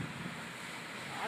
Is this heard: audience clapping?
no